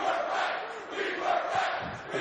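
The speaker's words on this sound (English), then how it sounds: "Crowd is in it early, Ray." Students pack a college basketball arena at Utah State, hosting Mississippi State, and keep up a loud, steady roar of cheering that swells and dips slightly across the moment without a break.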